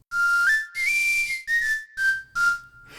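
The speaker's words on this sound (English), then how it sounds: "a second style, which is an airier sound." Airy whistling from a whistle sound library's airy style, in five breathy phrases, each a clear steady tone gliding slightly up or down, separated by short pauses, close and fairly loud.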